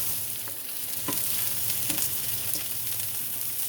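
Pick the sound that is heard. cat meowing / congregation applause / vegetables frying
vegetables frying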